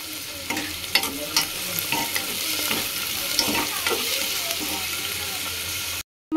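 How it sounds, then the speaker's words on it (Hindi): Chopped onions fry in hot oil in a pan for a mutton curry, giving a steady crackling sizzle punctuated by sharp scraping stirs, close and fairly loud, ending in a brief drop to silence. "एबे मु पियाज कटा पकई दोउची"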